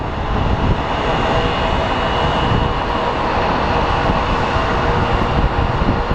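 An Airbus A319 jet, formerly an America West Airlines plane, moves at Phoenix Sky Harbor International Airport with a loud, steady engine roar and broadband rumble that holds throughout.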